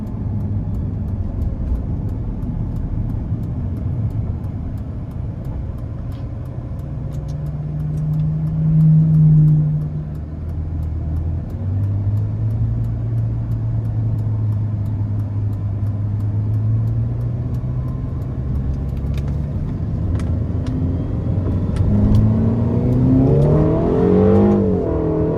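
A 2016 Ferrari California T with a 3.9-litre twin-turbo engine pulling out of a corner, the engine note climbing and swelling through the gears, loud and steady inside the car with a rising whine near the end.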